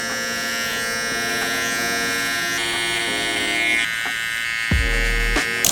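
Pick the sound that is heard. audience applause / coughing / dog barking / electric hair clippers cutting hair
electric hair clippers cutting hair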